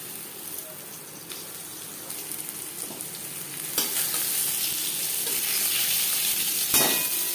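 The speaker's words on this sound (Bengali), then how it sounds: "পটল ভেজে নেব" Peeled, slit pointed gourd (potol) seasoned with salt and turmeric frying in a pan with little oil, a continuous close sizzle with occasional stirring scrapes and clanks, growing louder toward the end.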